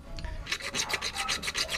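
Paint is being sanded off a car part before a fiberglass repair, making a close, rhythmic rasping rub of about eight quick back-and-forth strokes after a brief quieter start, with no voices.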